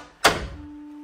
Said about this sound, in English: Open the door. What am I doing? I'm opening the door.